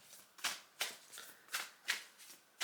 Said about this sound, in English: Give them a really good shuffle.